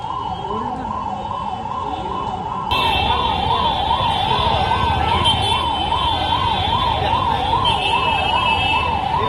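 A fire brigade vehicle siren wails in a fast, rising-and-falling cycle, loud and close, with engine and traffic rumble beneath that swell louder partway through.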